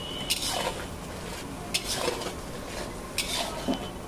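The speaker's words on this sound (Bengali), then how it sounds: "সমস্ত মশলাগুলো সব একসঙ্গে ভালোভাবে নাড়াচাড়া করছে, আর এই মশলাগুলোকে কিন্তু ভালোভাবে কষিয়ে নিচ্ছে" Spice masala stirred and fried in a large pot for a big batch of prawn malai curry, with a low sizzle under periodic scraping and clinks of a metal ladle against the pot; no voices.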